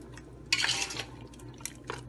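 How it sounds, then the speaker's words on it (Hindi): A spoon stirs meat with spices, oil and water in a pot, giving a short burst of scraping and sloshing followed by a few lighter clinks and wet stirring sounds. "इसको अच्छी तरह से चलाकर पका लेंगे।"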